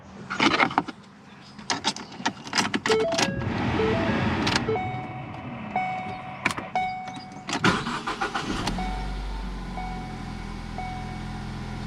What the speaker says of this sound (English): start the car and scan it for codes